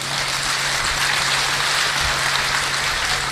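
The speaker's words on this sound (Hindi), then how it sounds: "एक बार तालियों से उन्हें बता दें आप बस" Dense, continuous applause from an audience at a Hindi poetry gathering, even and loud like heavy rain, with a steady low hum beneath.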